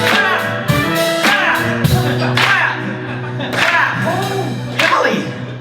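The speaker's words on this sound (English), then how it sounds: "Golly, you're clapping." Clapping from a live theatre audience at a comedic musical show, a series of sharp hand claps with a few loud spikes over sustained music and voices.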